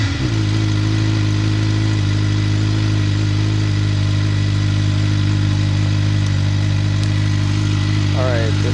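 A motorcycle fitted with a Yoshimura R-77 slip-on exhaust idles loudly and steadily up close, a deep even rumble with a brief rev near the end.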